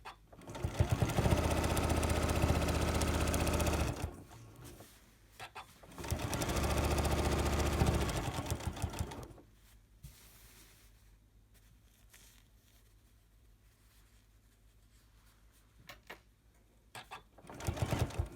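A home sewing machine stitches quilt fabric in two loud sustained bursts of several seconds each, with a quiet pause of faint handling noise between, then a brief restart at the end.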